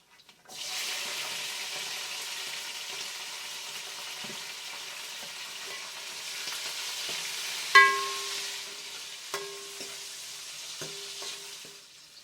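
Green chillies and crushed garlic fry in a pan, a steady close sizzle with a few sharp clinks and spatula scrapes partway through, no voices.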